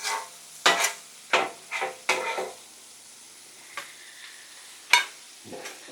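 Fajita vegetables are dumped and scraped onto a hot griddle plate, giving a series of short sharp scraping and clattering strokes over a faint steady sizzle, close by, with a few quieter taps between.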